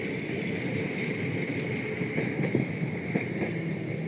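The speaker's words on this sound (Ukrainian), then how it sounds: "Зараз проїде трамвай, пробачте." Tram passing by on a street, a continuous rumbling roll of wheels on rails with a steady high whine and scattered clanks, fairly loud and close, with no talk.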